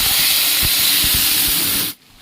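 A paste of ginger, garlic, onion, green chilli and tomato hits hot frying oil for a prawn and taro curry, giving a loud, steady, hissing sizzle that cuts off abruptly into near silence.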